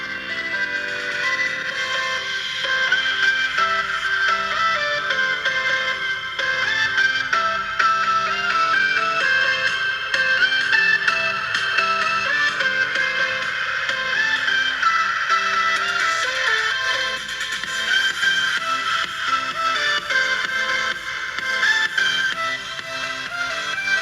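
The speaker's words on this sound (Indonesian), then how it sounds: "Sekarang kita mau dengarkan suara dari Oppo K3." An Oppo K3 phone's speaker plays steady melodic audio with a thin, treble-heavy sound. It holds a fairly constant loudness throughout and no one talks over it.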